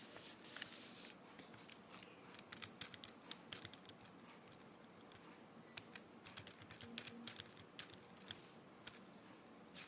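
Rapid, irregular typing on a computer keyboard, a steady run of light clicks and taps close by with no talk over them.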